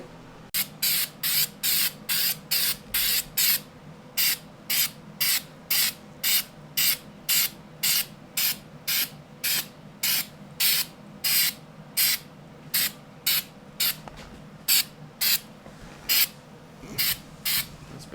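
Short bursts of a spray gun coating a car chassis with paint, each hiss lasting about half a second in a steady, rapid rhythm with brief pauses, close and loud over a low background hum.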